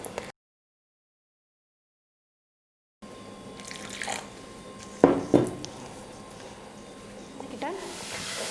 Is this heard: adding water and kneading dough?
yes